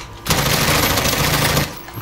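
Rapid automatic gunfire in the video game Call of Duty Modern Warfare: a loud, continuous burst of about a second and a half that starts abruptly and cuts off sharply, with no talk over it.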